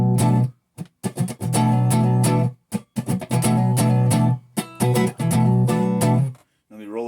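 A clean electric guitar plays through a PRS HDRX 20 amp with the presence turned off and the mid switch off. Ringing chords sound alone in loud bursts separated by short silences.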